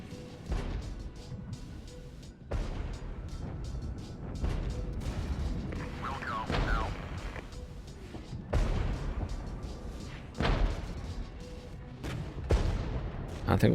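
A heavy artillery strike in the war game Regiments, with several loud booming blasts and crashes spread across the stretch over a low rumbling battlefield background, and someone talking at times.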